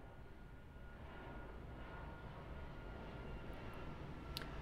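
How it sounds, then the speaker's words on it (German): A distant airplane arrives at Tegel airport in the video game Euro Truck Simulator 2, a faint, steady broad engine roar rising slightly over the whole stretch, with no speech. "Wenn ihr es hört, da kommt ein Flugzeug rein."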